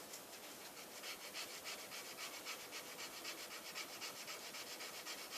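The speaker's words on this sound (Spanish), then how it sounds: "en este caso una lija súper fina, y con un poquito de cuidado, simplemente en la zona en donde hemos tenido el problema, lijamos" Super fine sandpaper rasps back and forth in quick, even strokes over airbrushed paint on a scale model Fw190 aircraft, a soft close scratching that repeats steadily with no voices.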